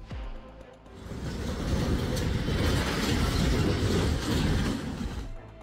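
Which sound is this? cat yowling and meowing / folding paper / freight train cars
freight train cars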